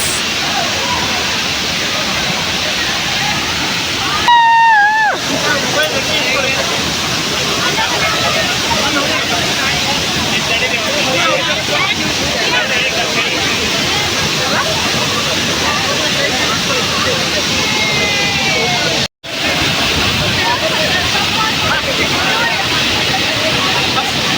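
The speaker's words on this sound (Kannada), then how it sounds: "finally falls" Waterfall in Chikkamagaluru, a steady broadband rush of falling water filling the whole stretch, with a brief whistle-like tone early on and people talking faintly over the roar.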